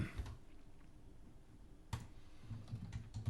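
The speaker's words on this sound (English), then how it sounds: "let me type this out" Quiet computer keyboard typing, a few soft clicks at first, then a denser run of keystrokes near the end, with a faint background hiss and no talking.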